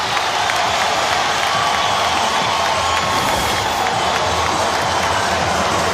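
Basketball crowd in a Morgantown arena at a West Virginia home game, a loud, sustained roar of cheering and applause filling the whole moment without a break.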